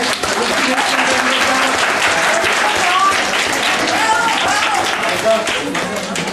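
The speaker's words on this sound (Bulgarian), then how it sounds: "Дайте ръкопляските" An audience bursts into sustained, dense applause that stays loud and even for several seconds, with voices and cheers faintly mixed in among the clapping.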